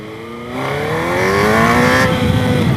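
A Suzuki GSX-R 1000 sportbike pulls hard in first gear into a power wheelie, its engine note climbing steadily in pitch as it accelerates. The sound is loud and close, with no talking.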